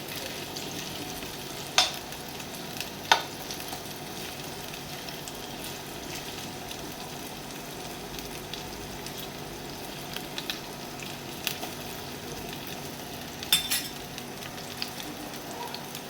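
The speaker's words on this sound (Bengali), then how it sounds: "আলুগুলো আমার লাল লাল করে ভাজা হয়ে গেছে।" Potatoes fry in oil for an egg-potato korma, giving a steady, moderate sizzle with a few sharp clinks of stirring over about sixteen seconds, with no voices.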